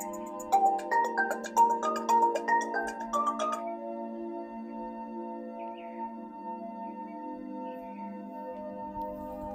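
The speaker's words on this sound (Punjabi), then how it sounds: "ਉਹ ਫੋਨ ਕਿਹਦਾ ਆ ਗਿਆ ਹੁਣ" An electronic phone ringtone plays a quick run of bright melodic notes, then settles into a steady held tone that rings on alone.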